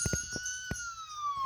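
An ambulance siren in a Peppa Pig cartoon sounds a single smooth, slowly falling wail, faint and brief, with a few soft clinks.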